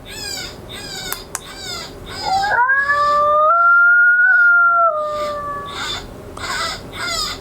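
A long, wavering howl from a predator caller rises and holds over a repeated, shrill cottontail rabbit distress squeal that continues before and after it.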